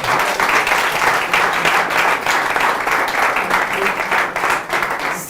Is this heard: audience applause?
yes